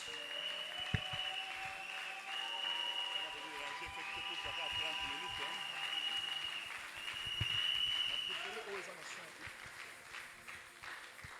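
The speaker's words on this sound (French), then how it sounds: "nous acclamons le Seigneur Jésus-Christ" Church congregation acclaiming and applauding during a special blessing service, a steady mass of clapping and voices with a sustained sung or ululating tone, moderately distant and continuous throughout.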